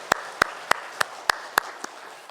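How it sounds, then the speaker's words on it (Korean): Six or seven sharp, evenly spaced claps ring out in a quiet, reverberant church during a Sunday worship service, the last one softer. "하나님 앞에 영광의 박수 올려드리겠습니다"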